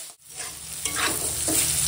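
Bitter gourd and potato fry in a pan while being stirred, a close scraping stir over a continuous sizzle with no voices.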